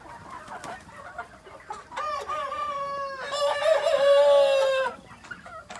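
A rooster crows loudly and clearly, drawn out over a couple of seconds, with scattered hen clucks before and after.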